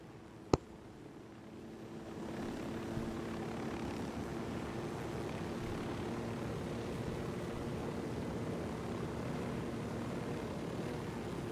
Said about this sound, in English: Chopper moves slowly